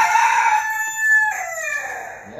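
A rooster crows loudly and close, a drawn-out tonal call that rises and then trails off, with no voices.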